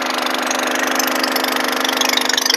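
A 5HP agricultural water pump engine runs close and loud on a farm, its rapid, even chugging pulses carrying over a harsh mechanical clatter, with no one speaking.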